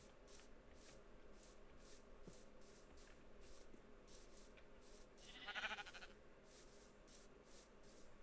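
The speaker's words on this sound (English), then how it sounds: "Hello, sheep." A sheep bleats once in Minecraft, a short wavering cry over a quiet bed of soft ambient sound and footsteps, with no talking.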